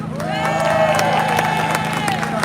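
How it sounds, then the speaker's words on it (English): A protest crowd in Manchester cheers and claps loudly and steadily, a dense wall of applause and shouting with a chant-like tonal murmur woven through, sustained without pause. "Let's give a very big round of applause there for voices from Palestine"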